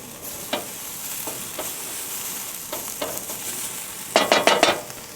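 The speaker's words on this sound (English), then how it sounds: "Onions starting to get there, might just put a little bit more oil on them." Onions frying in oil on a hot plate, a steady close sizzle broken by intermittent scraping stirs and a quick cluster of utensil taps near the end.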